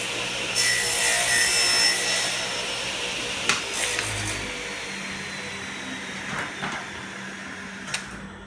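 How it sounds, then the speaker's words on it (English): A mitered wood piece butted against a shop stop is cut on a miter saw, a steady loud whine of the blade biting through the wood for about five seconds, then spinning down with a few light clunks, no talk. "We'll take our mitered end, put it up against the shop stop, and do our first cut."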